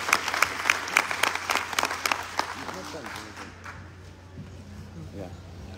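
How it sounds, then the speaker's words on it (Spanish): An audience at a book presentation during a book fair claps for Fernando Vivas: crisp individual claps build into applause, then thin out and fade to quiet room tone after about three seconds. "Pido un fuerte aplauso para Fernando Vivas."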